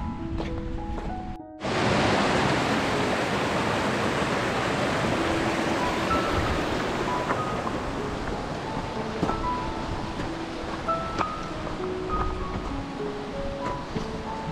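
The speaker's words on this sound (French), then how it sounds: "On suit le ruisseau." Mountain stream flowing along a steep hiking trail near Cauterets in the Pyrenees, a steady broadband rush of water that begins abruptly and continues loud and close, with faint scattered tones over it.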